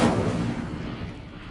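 An Incendio fire spell is cast in a PS4 video game, giving one loud, sudden blast that rolls out into a fading, rumbling whoosh over about a second and a half.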